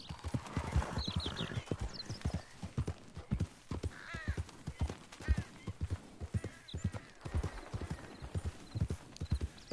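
Steady, rhythmic clip-clop of horse hooves at a trot in the video game Red Dead Redemption 2, close and clear, with a few faint whinnies and snorts mixed in.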